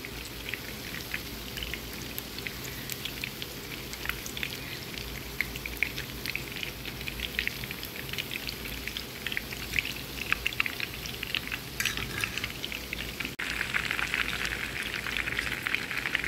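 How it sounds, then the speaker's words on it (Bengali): Beef jali kabab patties coated in egg sizzle as they fry in oil until brown, a steady, dense crackling and spitting that continues without pause, moderately close and with no voices. "এখন এটা একদম ব্রাউন করে ভেজে নিব।"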